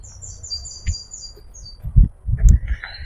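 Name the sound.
free-flying birds chirping at a wildlife rescue centre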